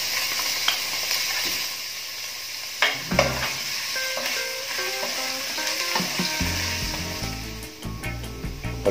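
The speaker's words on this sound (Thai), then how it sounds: "กระทะร้อนแล้วน้ำมันก็เริ่มร้อนเราก็จะใส่กระเทียมลงไปครับ" Garlic dropped into a hot wok of oil sizzles steadily, with a bright continuous frying hiss and occasional clinks and scrapes of a utensil stirring, close and without speech.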